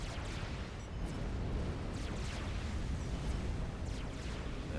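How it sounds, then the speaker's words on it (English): Artillery explosions in Supreme Commander form a dense, continuous rumble of distant booms and bursts, with a few sharper impacts rising out of the steady roar. "Nothing until the artillery from the bases was brought to bear."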